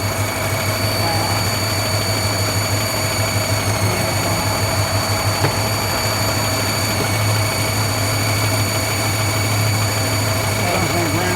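A brand new car engine idles steadily at a car show, a heavy, quiet, even hum with a constant low rumble running through the whole stretch.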